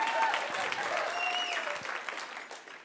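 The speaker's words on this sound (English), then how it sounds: "we should clap" Audience applause fills a hall at the 2022 HCA TV Awards ceremony, a dense, steady clapping from a large crowd that fades slightly toward the end, with faint voices and tones beneath.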